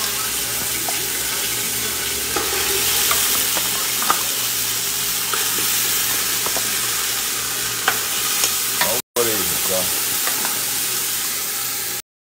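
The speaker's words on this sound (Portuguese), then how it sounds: "Tô fazendo a carne aqui, moída, fritando ela aqui, bem temperadinha." Seasoned ground beef frying for a bolognese sauce to go with polenta, loud close sizzling with repeated stirring scrapes and a brief running-water sound near the end, no talk.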